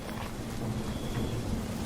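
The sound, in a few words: thunderstorm with heavy rain in an animation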